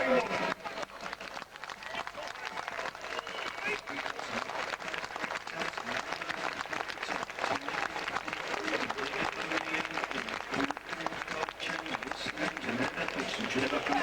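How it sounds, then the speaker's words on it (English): A convention audience applauds, a dense, continuous patter of clapping that holds steady for a long stretch at moderate distance. "Ladies and gentlemen, give the three of them a big round of applause, all live."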